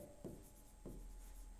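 Chalk or marker scratching out a gamma function proof on a board during a maths lecture, with two short, faint writing strokes against a quiet room hum.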